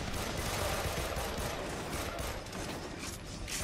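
Dense, steady battle gunfire from the video game Army of Two: The 40th Day forms a continuous wall of overlapping shots at moderate volume.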